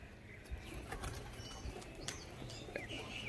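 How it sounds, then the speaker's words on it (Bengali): Pigeons take flight close by in a short burst of wing flapping, soft whirring flutters over a faint background hum. "এটা মাদি পায়রা বন্ধুরা"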